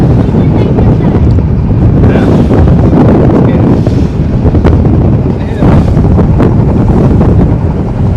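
A speedboat engine drones steadily across the water of a haor wetland in Kishoreganj, Bangladesh, with heavy wind buffeting the microphone and splashing waves throughout.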